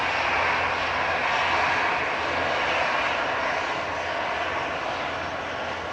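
A loud, sustained jet roar from an EasyJet Airbus A320 lined up for takeoff at Manchester Airport on a gusty day. The engine noise is broad and steady, swelling slightly and then easing over the whole span, with no talk.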